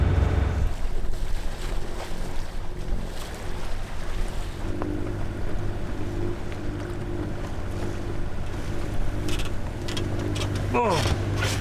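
Cold wind rushes over a sailboat under way, a steady broadband roar with water washing along the hull and a brief voice near the end.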